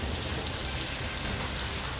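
Steady rain falls in Punjab, a continuous even hiss of drops on surfaces, moderately loud and unbroken, with no voices.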